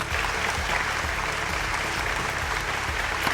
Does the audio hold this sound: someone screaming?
no